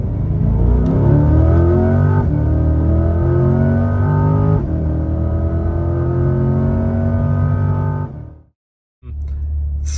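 A Chevrolet Corvette C8 engine revs hard in a quick pulse, rising in pitch through several steps, loud and close, then cutting off abruptly into a brief silence before a low idle returns.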